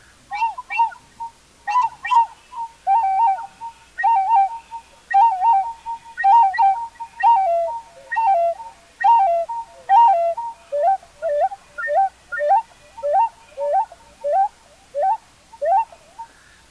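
A flute trills and chirps in short, repeated bird-like phrases, steady and fairly close, imitating birdsong with no voices.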